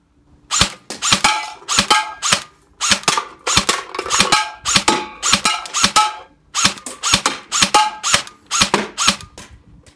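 An SRC Sportline M4 airsoft rifle firing semi-auto, a rapid series of sharp, close snapping shots in uneven bursts of two to four with brief gaps, loud and clear with no talking.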